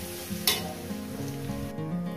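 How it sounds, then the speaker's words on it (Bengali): Garlic sizzles in hot oil in a pan as greens are fried with a fish head, a steady close frying hiss with a brief sharper burst of crackle near the start, no voices. "রসুনটা আমার ভাজা হয়ে গেছে"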